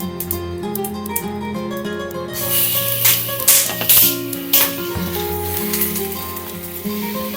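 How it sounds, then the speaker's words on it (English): Peppers hit a hot pan and break into a hissing sizzle that surges and settles in waves, with steady background music playing underneath. "When it's hot enough, we add our pepperoni"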